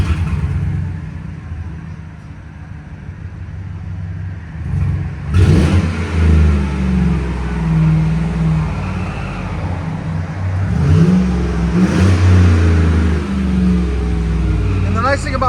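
A 2015 GMC Sierra pickup with a 5.3L V8 and an 18-inch Magnaflow body muffler idles with a low rumble, then blips its throttle in a few sharp revs, with someone talking over parts of it.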